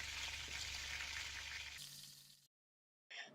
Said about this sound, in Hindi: मीडियम फ्लेम पर साइड चेंज करते हुए हम इन्हें अच्छे से क्रिस्पी होने तक फ्राई कर लेंगे।